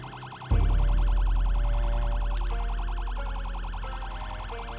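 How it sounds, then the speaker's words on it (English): A loud wailing car siren in the video game Project Zomboid cycles rapidly up and down, close and steady, layered with a low engine rumble and occasional faint clatters. "So either the siren's just not gathering them from as far as I thought it would"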